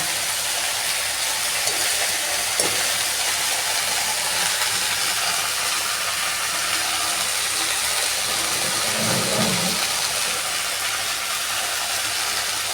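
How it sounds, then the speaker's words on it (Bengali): Water spinach fries in oil with dry red chili and garlic in a wok, giving a steady, dense sizzling hiss that runs evenly from start to finish. "কড়াতে শুকনো লঙ্কা আর রসুন কালো দিয়ে ফোড়ন দিয়ে দিয়েছি রসুন একটু লাল লাল হয়ে ভাজা হয়ে গেছে এবার আমি শাক ছেড়ে দিচ্ছি"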